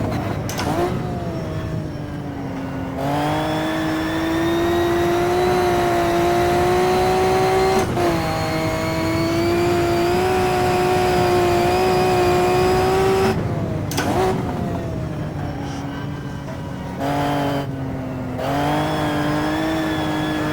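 Maserati 250 race car engine in a racing game, a loud sustained high-revving note rising and holding through long pulls, dropping off sharply between shifts and braking for turns.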